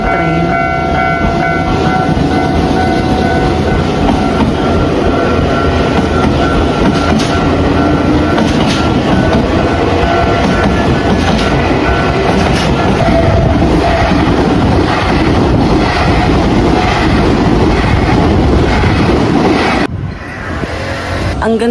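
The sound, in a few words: train passing at a level crossing in Japan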